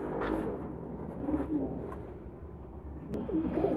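Pigeons cooing inside a cardboard shipping carton, soft repeated coos that rise and fall over a steady low rustle, close by with no talk.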